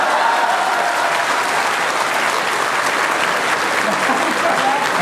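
Sustained applause from the audience at a Hindi poetry recital, dense and steady clapping that stays even and fairly loud throughout, with no break.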